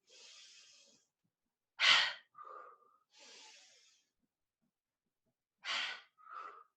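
Deep yoga breathing during a flow: slow, airy inhales and exhales in a loose rhythm, with two sharper, louder breaths followed by soft hums, close and alone.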